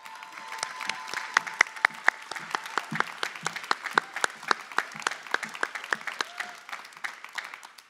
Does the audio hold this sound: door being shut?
no